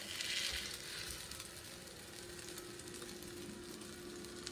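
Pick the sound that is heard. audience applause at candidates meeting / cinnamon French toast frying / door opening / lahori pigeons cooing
cinnamon French toast frying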